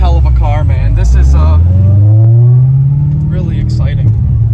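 A Corvette ZR1 tuned to roughly 730–740 wheel horsepower revs up with a deep, rising engine drone that climbs steadily, heard close and loud beneath someone talking throughout.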